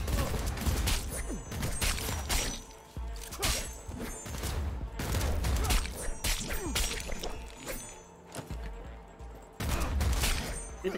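Rapid bursts of gunfire echo through a Cyberpunk combat scene, with repeated volleys and whacks that are loud and close, broken by short pauses.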